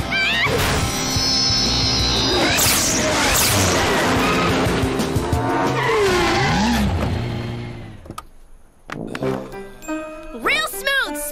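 A race car skidding mid-race, with a loud roaring engine, squealing tires and jingling tones layered into a dense, continuous wash that drops out briefly before sharp whooping sweeps return.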